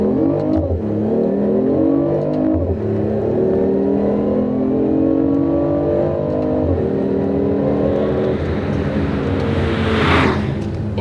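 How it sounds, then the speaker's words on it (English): A BMW i8 hybrid sports car in sports mode, with its active interior engine sound, revs up and holds a rising, whirring engine note for several seconds, loud and close, with no talking. "let me demonstrate you how this car can sound"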